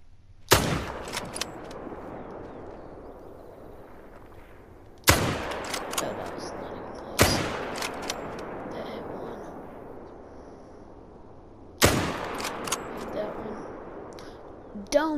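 Hunting rifle shots fired at a bison in a video game, four sharp loud cracks spaced a few seconds apart, each followed by a long rolling echo that fades away.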